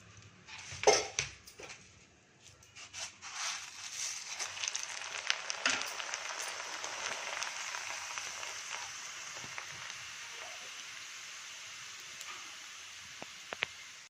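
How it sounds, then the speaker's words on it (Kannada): Flattened rice (poha) fries in hot oil in small batches: a burst of crackling as it drops in, then a steady bright sizzle with occasional utensil clinks. "ಸ್ವಲ್ಪ ಸ್ವಲ್ಪನೇ ಹಾಕ್ಕೊಂಡು ಈ ರೀತಿ ಕರ್ಕೊಳ್ತೀನಿ ಸ್ವಲ್ಪ ಅವಲಕ್ಕಿ ಹಾಕ್ಕೊಳ್ತೀನಿ"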